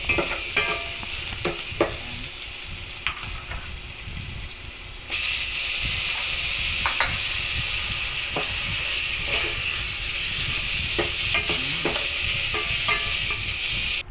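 Garlic, onion and ginger sauté with meat in a pan for sinigang, a loud continuous sizzle with scattered scraping stirs and clinks throughout, no talk.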